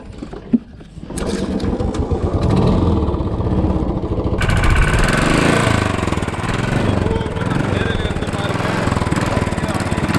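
A motorcycle engine, stuck in deep sand on a desert road between Jaisalmer and Bikaner, is kicked over and then roars steadily for several seconds, loud and close, with some talk underneath.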